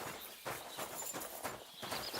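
A horse in the game Kingdom Come: Deliverance approaches with brisk, regular clip-clop hoofbeats, about four clear strikes per second, fairly quiet and alone with no talk.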